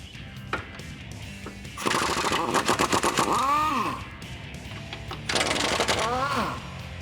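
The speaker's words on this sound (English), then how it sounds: "So to get these bolts out, we're gonna use a 19mm socket." An impact wrench with a 19mm socket drives out suspension bolts on a 1987-era Jeep Wrangler YJ during a Rubicon Express 2.5-inch lift install. There are two loud rattling bursts with a brief pause between them, and speech comes before them.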